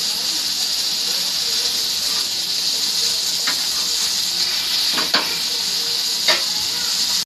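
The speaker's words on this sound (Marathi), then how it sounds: "सगळे मी आता फ्राय करून घेणार आहे." Steady, bright sizzling of drumstick leaves (shevaga) frying in oil in a pan, a continuous close hiss with a few soft clicks and taps of stirring, no voices.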